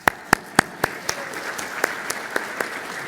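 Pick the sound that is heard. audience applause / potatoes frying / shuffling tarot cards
audience applause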